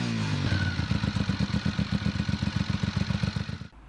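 A BMW R 1250 R roadster with the ShiftCam boxer engine idles close by, its low pulsing firing beat steady and even before cutting off at the end.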